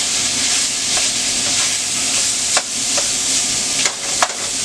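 Pasta bake ingredients browning in a hot pan give a loud, continuous sizzle, with a few sharp scraping strokes from stirring breaking through near the end.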